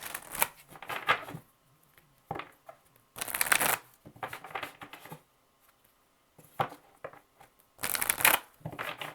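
Tarot cards being shuffled in several quick riffling bursts separated by short pauses, close up and fairly crisp, with no talking.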